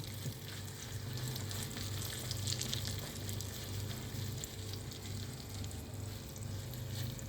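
Turmeric and spices sizzle steadily in hot oil in a pan for a tempering, a continuous close crackle and hiss with no voices.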